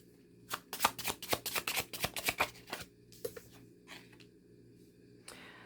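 A deck of tarot cards is riffled and shuffled, producing a quick close run of crisp flicking snaps that thins into a few softer slides and taps, quiet and with no talking.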